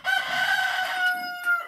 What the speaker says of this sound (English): And gents, yes, I'm not forgetting about you, Rooster